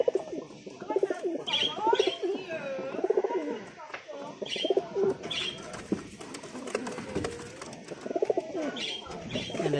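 A pair of pigeons scuffle and coo close by, repeated throaty coos with occasional chirps and wing flaps, steady and moderately loud throughout.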